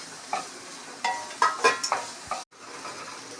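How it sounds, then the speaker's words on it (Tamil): Onions and tomatoes sauté in a pan for palak paneer rice, with a few sharp spatula scrapes and stirs over a soft, steady sizzle, close by and moderately quiet. "வெங்காயம் தக்காளி வதங்கிடுச்சு"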